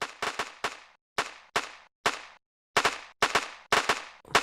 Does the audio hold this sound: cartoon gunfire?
yes